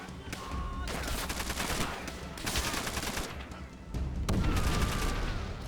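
Repeated gunfire bursts and explosions from Call of Duty: World at War, a dense continuous barrage of shots and booms with no talking.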